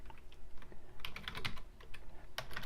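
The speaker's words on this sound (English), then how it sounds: "so I'm just typing it in." Rapid clicking of keys on a computer keyboard, irregular bursts of typing at close range with brief pauses, no voices.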